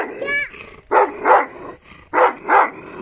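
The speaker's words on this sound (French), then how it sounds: "Je sais qu'il y a un chien ici" A guard dog for goats in Turkey gives a brief whine, then four loud, close barks in two quick pairs separated by a short pause.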